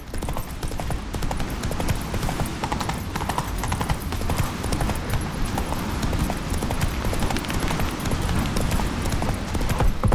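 Roach, Geralt's horse in the video game The Witcher 3: Wild Hunt, gallops through a chase with fast, dense hoofbeats. A dense wash of action noise and music fills the whole stretch at a steady loud level.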